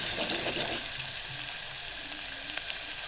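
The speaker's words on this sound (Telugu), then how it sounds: "కడిగి పెట్టుకున్న కీమాను ఇప్పుడు నేను దాంట్లో వేసేస్తున్నాను ఆయిల్లో." Mutton keema dropped into hot oil for a curry, sizzling and frying in a steady, bright crackling hiss, close and continuous without speech.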